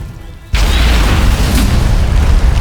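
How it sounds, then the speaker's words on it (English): Bombs exploding in the open-world game Mercenaries 2: World in Flames, a single sudden loud blast that bursts in and holds as a dense, sustained roaring rumble. "Bombs away!"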